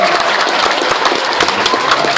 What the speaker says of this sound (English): Round of applause for Shane O'Sullivan